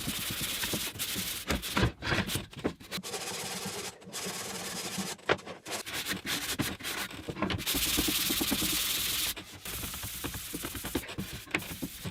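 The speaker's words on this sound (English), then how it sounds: "But yeah, hand sanding," Hand sanding an oak shelf board, a continuous scratchy rasp of sandpaper with rhythmic back-and-forth strokes, close and steady for the whole stretch with brief pauses between passes.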